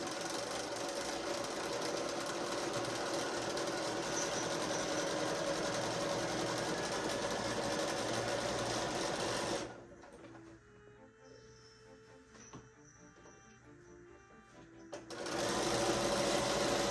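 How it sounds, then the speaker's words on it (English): A sewing machine top-stitching the bottom closed on a fully lined apron, running in a steady loud whir for about ten seconds, then a quiet pause with small handling noises before the motor starts again. "I just need to top stitch this closed here on the bottom."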